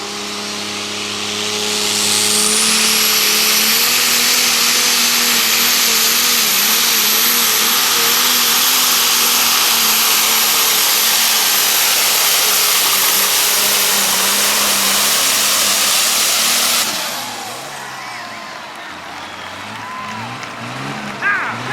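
A loud pulling tractor engine roars at full power for about fifteen seconds with a high mechanical whine during a tractor pull, then drops away to a lower idle.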